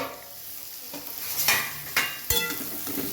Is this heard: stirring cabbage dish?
yes